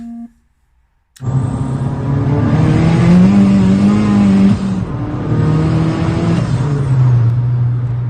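Turbocharged Abarth engine with over 300 bhp surging hard as the wastegate opens, a loud sustained roar that rises and dips in pitch over several seconds after a brief silence.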